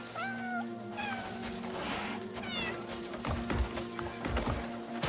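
A cat meows in the video game Crimson Desert, several short rising meows early on over game ambience with soft clip-clop footsteps, then a busier stretch of clattering steps.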